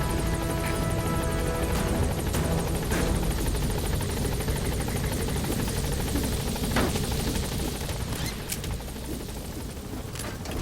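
Steady, loud rotor drone from a support helicopter in the Metal Gear Solid V video game, hovering over an obstructed landing zone, running continuously with no talk over it.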